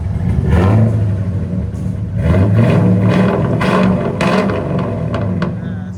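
Revving of a 2000 Ford Excursion's 5.4L V8 through a Flowmaster Super 10 exhaust, loud and close, with two throttle blips swelling over a deep idle rumble and faint voices in the background.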